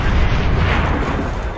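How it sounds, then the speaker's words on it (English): A grenade blast in Call of Duty: World at War erupts as one loud, close, rumbling explosion that sustains with heavy low-end roar through its brief length, with no voices. "he shot a fucking grenade at me"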